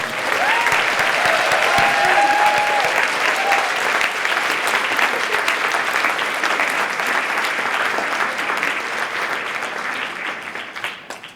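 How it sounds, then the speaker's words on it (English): A large audience at an MLK Day 2020 event claps steadily and loudly for elementary school students for several seconds, a dense wash of applause that slowly tapers off at the end. "Let's give all these students a round of applause."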